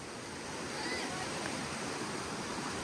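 Floodwater rushing through local streams and streets after an hour of torrential rain in Dharan, Nepal, a steady, dense broadband roar of flowing water filling the scene without pause.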